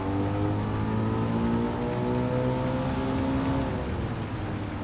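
A racing car's engine drones steadily in Gran Turismo 7, its pitch rising and falling slightly as it drives on a slippery, rain-threatened track, loud and continuous with no talk.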